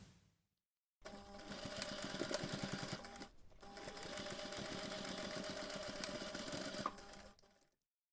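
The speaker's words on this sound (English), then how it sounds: "take this to the machine and sew the seam" A sewing machine stitches a seam on a DIY backpack with webbing, running in two steady, close mechanical bursts of rapid needle clatter separated by a brief pause, with no talking.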